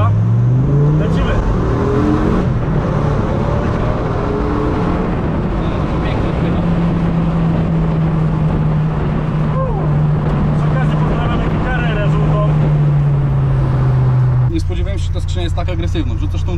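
A Dodge Viper engine pulls hard under full-power acceleration, its loud, deep tone rising steadily through a long gear before a sharp shift, close up from inside the car, with people talking over it.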